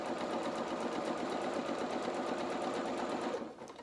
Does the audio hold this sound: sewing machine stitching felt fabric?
yes